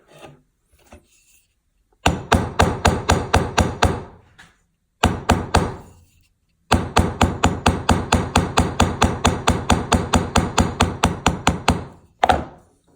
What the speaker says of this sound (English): I'm gonna drive this head down just a little bit